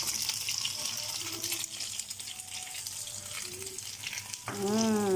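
French toast sizzles steadily in a hot pan as it is flipped over, a constant frying hiss beneath voices talking nearby.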